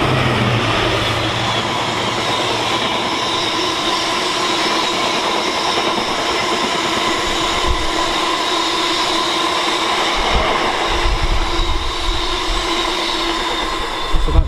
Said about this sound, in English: So it is Washwood Heath to Tunstead sidings, and it's operated by a GBRF 66 66755.